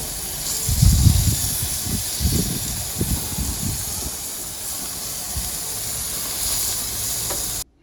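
Porterhouse steaks sizzle steadily in a hot pan, a loud constant hiss with a few heavier pops and crackles near the start, no voices.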